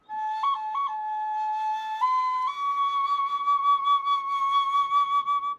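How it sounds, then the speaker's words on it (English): A bone flute, a replica of instruments excavated at Chavin, plays a clear breathy melody: a short lilting phrase with quick ornamental turns, then a step up to a higher sustained note that wavers slightly, loud and close with no talk. "Flutes carved from bone."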